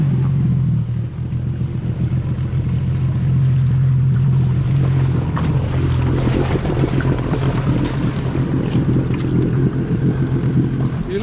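Engine of a 2021 SeaDoo GTX Stage 3+ Calas Performance jet ski runs with a loud, steady low rumble throughout, with wind buffeting and water noise mixed in.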